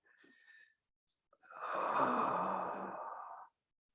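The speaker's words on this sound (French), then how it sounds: "Bâillement." During a qigong stretching session, a person lets out a long, breathy yawn that swells and then fades, preceded by a short faint exhalation and brief quiet.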